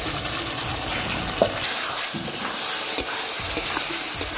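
Pre-fried potatoes stirred into spiced oil in a pan for a vegetarian papad dorma, a steady close sizzle broken by scraping knocks of the spatula every second or so.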